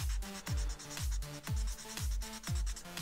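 Sandpaper of 600 grit worked by hand in steady back-and-forth strokes, giving a close, rhythmic rasping rub that repeats about twice per second with no talk.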